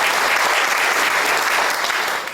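Members at a Presbyterian men's fellowship prayer breakfast applaud in welcome, a loud, dense burst of crowd clapping that stays full and steady before easing slightly at the end.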